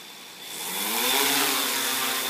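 Yuneec Q500 4K quadcopter drone motors spinning up for a maiden flight in light wind, a steady high buzzing whine that rises and swells in loudness over a couple of seconds, close by and without talk.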